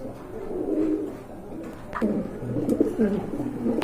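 Pigeons coo in a loft of round-shaped, jet-black show birds, with low throaty cooing phrases repeating close by and a faint voice in the background.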